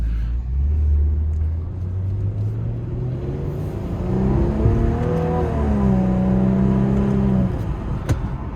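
A 2022 Maserati Ghibli Modena Q4 engine rumbles low and steady, then revs up through rising gear pulls as the car accelerates, loud and close.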